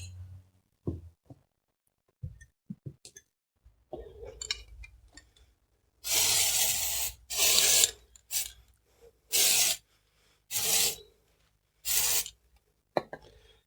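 A plastic ruler scrapes old gasket material and gasket stripper off an engine cylinder surface, with scattered light taps at first, then several loud rasping strokes about a second long each, close and separated by short pauses.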